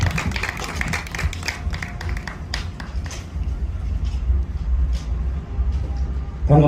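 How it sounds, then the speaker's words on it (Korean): Applause for a city council vice chairman at an outdoor statue unveiling ceremony in Masan, a burst of clapping that thins and fades, over low rumbling background noise. "다시 한번 큰 박수 부탁드립니다"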